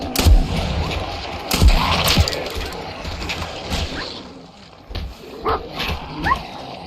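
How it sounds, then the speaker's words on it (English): A dog yelps and whimpers in Fallout 4 during a zombie fight, its cries mixed with repeated revolver gunshots and game effects in a busy, noisy scene. "My poor dog is yelping like crazy."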